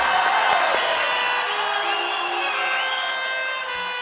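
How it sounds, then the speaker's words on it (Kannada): A studio audience at a comedy stage show applauds and cheers, a bright sustained burst of clapping and whoops that slowly fades across the stretch. "ಬನ್ನಿ ಚಪ್ಪಾಳೆ"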